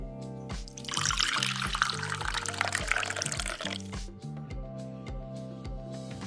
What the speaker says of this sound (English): If you pour juice into the glass,